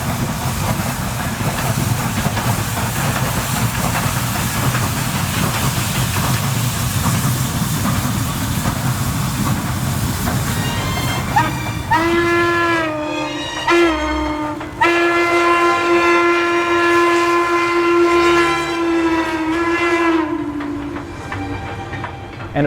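Steam locomotive 1309 on a charter run-by, a loud steady rumble and chuffing that gives way to repeated whistle blasts close by.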